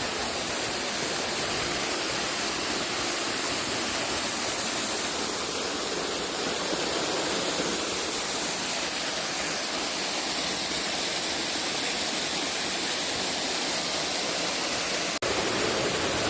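Waterfall in a forest: a steady, loud, broadband rush of falling water continues without a break, with no voices.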